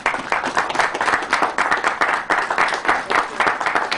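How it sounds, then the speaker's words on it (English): An audience claps for the SRA board at a Union Station rehabilitation completion event, dense continuous applause from a sizable crowd, fairly loud and steady throughout with no speech over it. "Let's give them a round of applause."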